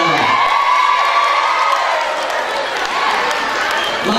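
A morning crowd cheers, whoops and claps after a free giveaway is announced, a dense, loud, continuous roar with shouting voices mixed in.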